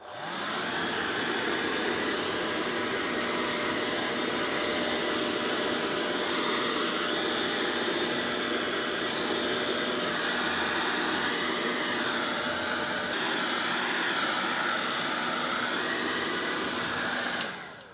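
A hair dryer runs steadily on its lowest setting as a crafting heat tool, a continuous close whooshing hum with a faint whine that holds for the whole stretch before cutting off at the end.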